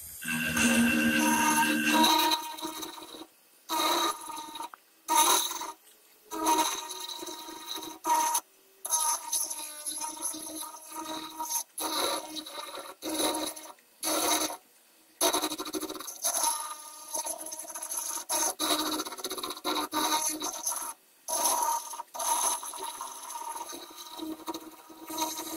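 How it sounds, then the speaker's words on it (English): A big power tool shapes the mouth of a gorilla head sculpture, giving bursts of loud, rasping grinding that start and stop repeatedly with short silent gaps between passes. "Now we're gonna start doing some shaping around the mouth here with the big power tool."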